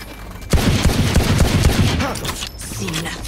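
Rapid gunfire from a gun in the Valorant video game bursts in loud and close, a fast string of sharp cracks lasting a few seconds, with someone talking underneath.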